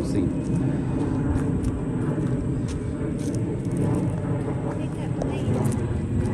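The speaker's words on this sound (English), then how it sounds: "we have a plane in the background" A fixed-wing airplane passes overhead outdoors, a broad steady engine roar that fills the background throughout.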